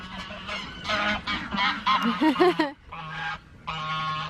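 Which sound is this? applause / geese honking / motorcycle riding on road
geese honking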